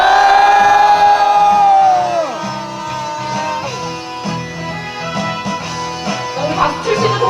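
Protesters at a social welfare law rally in Yeouido roar a loud, sustained collective shout together, close and massed, which fades into a murmuring crowd with scattered cries.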